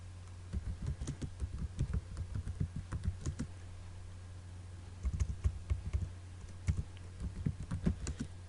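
Typing on a computer keyboard to enter a GW-BASIC program, a close run of quick clicking keystrokes in bursts with a short pause in the middle, no talking.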